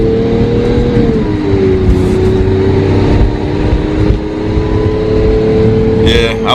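A Lamborghini Aventador engine, still cold, hums steadily at low revs, a sustained tonal drone with slight pitch shifts, close by, with no hard acceleration.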